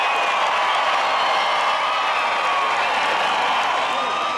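A large crowd at a Servite high school championship makes a continuous roar of cheering and shouting, dense and steady, with voices mixed into the wash of noise.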